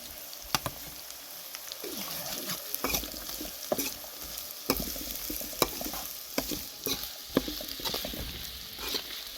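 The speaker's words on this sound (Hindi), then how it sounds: "ये सभी हम इसमें ऐड कर लेंगे और इसको भी हम फ्राई कर लेंगे बाकी इंग्रेडिएंट्स के साथ" Finely chopped carrots and other vegetable momo filling frying in a pan, a soft steady sizzle broken by frequent sharp clinks and scrapes of a stirring spoon, close by and moderately quiet.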